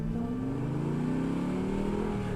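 Cars revving in a TV show scene, a loud continuous engine roar that rises steadily in pitch as the cars accelerate.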